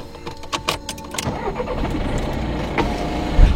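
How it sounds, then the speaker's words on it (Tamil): A car engine runs at night at a forest campsite, giving a low, steady rumble close by, with a few clicks and thumps over it and no speech. "லைட்டாக கார் ரன் பண்ணுறீங்க பாருங்க."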